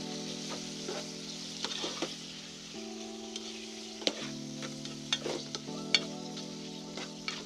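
Spam and kimchi with its juice fry and sizzle in a pot, a steady close hiss broken by sharp clinks and scrapes of stirring, with no talk.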